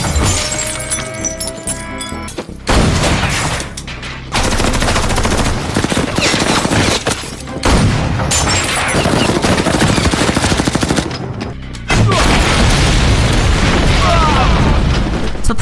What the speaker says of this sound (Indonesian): setelah meledakkan beberapa bom yang tadi Jiming simpan